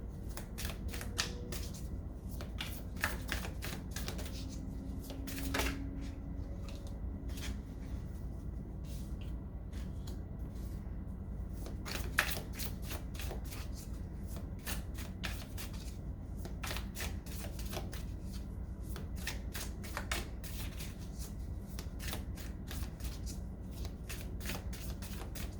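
Tarot cards are shuffled during a reading, giving repeated quick riffling bursts and soft slaps at a faint, close level in an otherwise quiet room.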